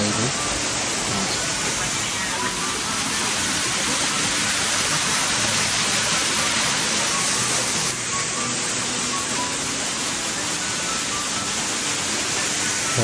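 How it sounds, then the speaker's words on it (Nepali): Water from a waterfall on the Kageshwori stream near a Shiva temple in Shivpuri National Park roars steadily and evenly, a dense close wash of noise with no pauses. "कायेश्वरीको खोलाको झर्ना साह्रै राम्रो देखिन्छ"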